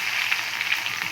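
Dried red chillies drop into hot oil alongside a little chana dal and urad dal, giving a brief, bright, even sizzle at close range.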